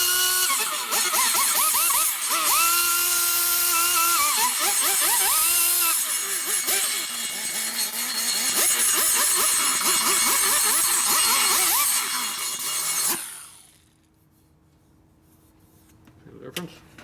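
A high-speed rotary tool with a dull cutter whirs and grinds inside a Harley-Davidson twin cam cylinder head port, pitch dipping and rising as it works, loud and close, then cutting off as the motor winds down.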